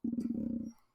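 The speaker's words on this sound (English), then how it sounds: "Sorry, you can hear my dog crying in the background." A dog whines in the background, a single brief low, throaty whimper with a pulsing tremble that lasts under a second and then fades out.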